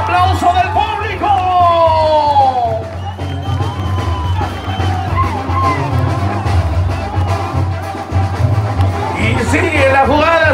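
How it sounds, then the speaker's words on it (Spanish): A crowd at a charreada in the Lienzo Charro Casa Blanca arena in Krum, Texas cheers and whoops for a boy riding a bull. Shouting voices rise and fall over a loud, steady murmur from the stands. "¡Y el aplauso del público!"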